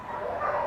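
Shepherd mix dog at an animal shelter giving a short, close, whiny bark-like yelp that rises in excitement, heard without talking.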